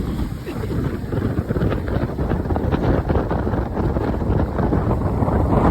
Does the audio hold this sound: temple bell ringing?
no